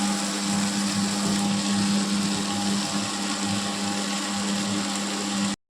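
A mixer grinder whirs steadily, grinding a paste finely for okra kuzhambu; the loud, continuous motor drone holds for nearly six seconds before cutting off abruptly at the end.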